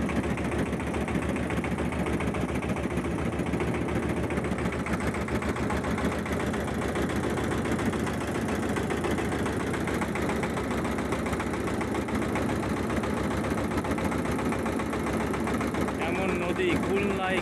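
A motor boat engine driving a river boat upstream against a strong current on the Teesta, a loud steady mechanical drone close by, with someone talking over it.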